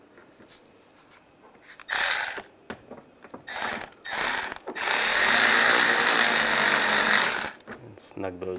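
A power ratchet snugs down front bumper screws on a 1999–2005 Volkswagen Jetta. Several short, loud mechanical buzzing bursts lead into one sustained run of about two and a half seconds, with a quiet pause between bursts.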